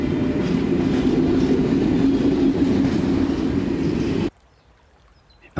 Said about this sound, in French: la voie ferrée avec le bruit des trains qui passent